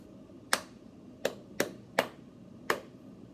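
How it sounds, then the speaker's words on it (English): Single sharp hand claps spaced irregularly, five in all, crisp and close, in a quiet room with no talking between them. "I'm gonna clap one of these"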